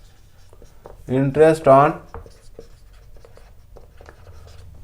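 A pen scratches across paper in faint, irregular strokes after a short burst of speech, continuing softly near the microphone.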